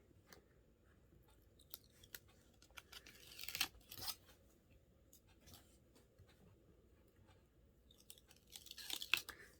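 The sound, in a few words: peeling adhesive paper strip off after burnishing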